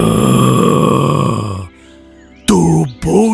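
A monstrous demon growl, a deep snoring, rasping roar that holds loud for over a second, drops to near silence, then returns in two short guttural bursts.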